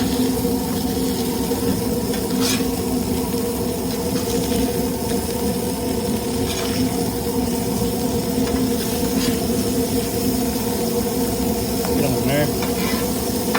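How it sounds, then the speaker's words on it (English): Burger patties sizzling steadily in butter in a pan, a dense continuous hiss and crackle close by that holds level throughout, with a few faint clicks and scrapes on top. "Get that butter going in good on that meat."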